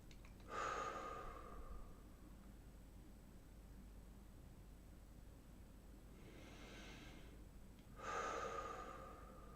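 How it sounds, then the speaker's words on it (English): Slow deep breathing, with a strong breath near the start, then quiet, then two more breaths close together later. The breaths are airy, close and fairly soft, with faint background hiss. "Inhale deeply, hold it for a moment,"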